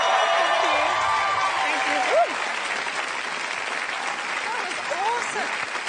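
Studio audience at an Australian TV comedy panel show clapping for a guest, a steady wash of applause with scattered whoops and voices over it.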